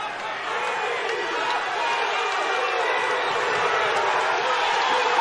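A basketball crowd roaring at Gill Coliseum during an Arizona State at Oregon State game, a loud sustained wash of cheering and shouting that swells steadily throughout, with a voice talking beneath it.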